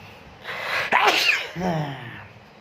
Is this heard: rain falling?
no